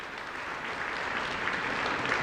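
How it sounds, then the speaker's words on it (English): A crowd applauds the Cass Tech ROTC color guard at a 2016 victory gala, a dense, steady wash of clapping that holds loud and even throughout. "Please give them a round of applause."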